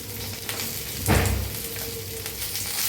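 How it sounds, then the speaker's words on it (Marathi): Green chillies and garlic roasting in a little oil in a pan, a steady close sizzle throughout that swells into a louder burst of frying about a third of the way in, then settles back to an even crackle. "आता मिरच्या भाजायला ते त्याच्यातच लसूण टाकूया"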